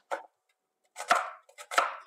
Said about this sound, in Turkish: Soğanlarımı piyazlık olarak doğruyorum.